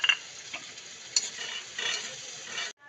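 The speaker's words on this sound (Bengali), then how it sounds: "এই পেঁয়াজ ভাজার মধ্যে আদা বাটা, রসুন বাটা, জিরে বাটা, তড়কা মশলা দিয়ে একসাথে কষিয়ে নেব।" Onion frying with ginger, garlic and cumin paste and tadka spices for a special tadka dal, a steady close sizzle with scraping stirring strokes, no talking, cutting off abruptly at the end.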